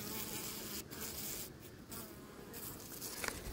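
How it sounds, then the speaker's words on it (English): A wasp and a honey bee fight near a beehive, giving a continuous close insect buzz with brief wing flutters and pauses, loud and alone. "here's a wasp and a bee having a fight to the death there"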